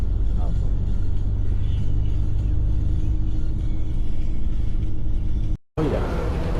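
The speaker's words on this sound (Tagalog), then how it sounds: "Pero ngayon, sobrang traffic." Heavy road traffic in old Dubai, a loud continuous rumble of cars and engines close by that cuts out briefly near the end and then resumes.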